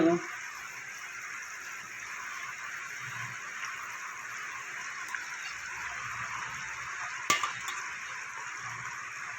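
Fried rohu fish pieces go into a pot of simmering curry with boiled potatoes, giving a steady, moderate sizzle and bubbling hiss with a brief clatter near the end; no one speaks.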